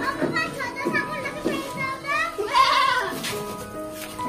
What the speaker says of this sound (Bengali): এই ছাগলগুলো খাবার খাবে বলে এরকম করছে।